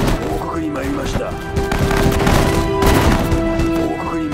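Gunfire in the Pacific War setting of the Sudden Strike 4 strategy game crackles in rapid bursts of rifle and machine-gun shots, dense and loud, with a spoken voice line under the shooting.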